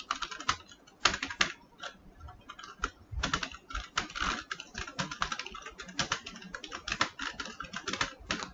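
Someone types JavaScript code on a computer keyboard, producing close, brisk bursts of key clicks with short pauses between runs, heard alone without speech.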